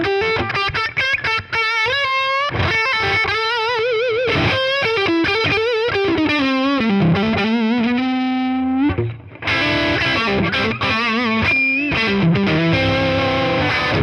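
An electric guitar runs through the lead channel of a Boss Katana 50 EX Gen 3 amp, a distorted lead line with fast runs and sustained bends, then a fuller strummed passage, loud and close with no talking.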